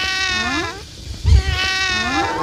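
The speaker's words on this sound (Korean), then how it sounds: "어디선가 들려오는 고양이 울음소리" A cat meows in two long, drawn-out cries with a short quiet gap between them, close and clear.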